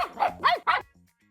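Three quick, sharp barks from a pet dog ring out close and loud in quick succession, then a faint trailing yip.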